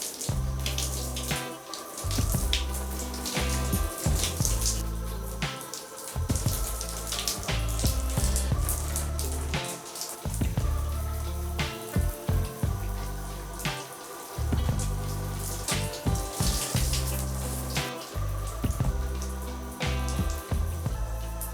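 Tap water runs steadily while locs are washed, a continuous close splashing and pattering stream that holds loud and unbroken for the whole stretch.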